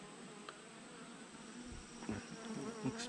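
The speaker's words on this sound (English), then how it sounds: "I love these bees." Steady buzzing of honey bees hovering nearby at a hive inspection on a hot day, a continuous droning hum with occasional louder passes close by.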